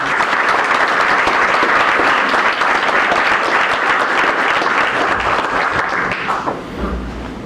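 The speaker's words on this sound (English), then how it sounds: "Let's give them another round of applause." Enthusiastic applause from a large audience, dense and sustained, then tapering off near the end.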